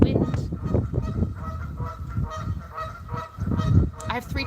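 Loud birds honk and call in a noisy cluster outdoors in the wind in Florida, goose-like cries overlapping in bursts, close and harsh throughout.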